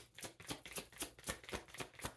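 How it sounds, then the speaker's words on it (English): Tarot cards riffled and shuffled by hand in quick, regular bursts of crisp papery flicking, about nine strokes in two seconds, close and alone without speech. "I'm going to shuffle until they tell me to stop."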